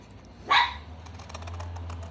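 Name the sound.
Chihuahua dog barking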